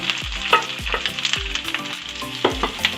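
Sliced carrots stir-fried in a hot pan for Korean rice cakes, with a steady sizzle broken by repeated scraping strokes and clanks of the utensil, close and fairly loud.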